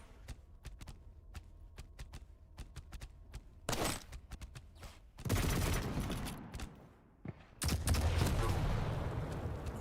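Rocket launcher blasts and explosions erupt in a fast-paced arena shooter match, arriving as sharp bursts and heavy roaring bangs over a backdrop of rapid clicking footsteps and gunfire.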